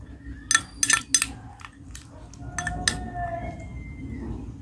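A spoon clinks and scrapes against a bowl while neem leaf, betel leaf and curd paste is mixed, a quick burst of sharp metallic taps followed by softer stirring, close up with no talking.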